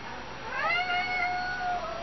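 A cat gives a single drawn-out, rising then level meow, clear and fairly close in a quiet indoor room.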